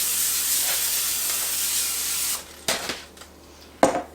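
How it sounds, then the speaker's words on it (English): Cooking spray hisses onto a baking pan for chocolate and salted caramel bars in one steady burst of about two seconds, followed by a couple of short, sharp clatters. "And just to make sure they don't stick to the bottom, we're going to spray it real quick."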